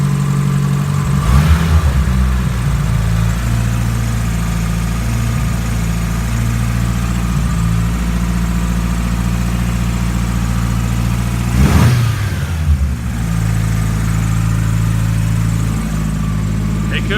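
A car engine with its blow-off valve removed idles steadily, slightly high, at a close, loud level, with two brief revs rising over the low hum.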